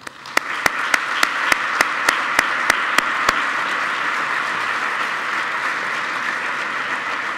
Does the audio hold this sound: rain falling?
no